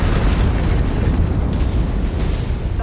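A missile explosion in a video game lands as a loud, deep rumbling blast that rolls on for a few seconds.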